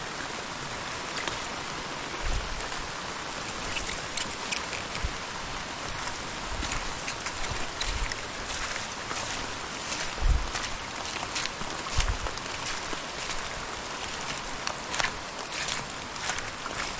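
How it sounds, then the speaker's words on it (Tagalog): Steady rain hisses on a surface, constant and fairly loud, with occasional soft thumps underneath. "Ito daw ulan."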